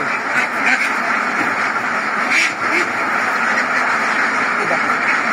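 A duck quacks loudly and continuously up close while being given a cholera vaccine injection, with a person's voice mixed in around the calls.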